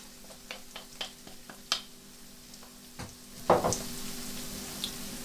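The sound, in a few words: spices sizzling in frying onions and ginger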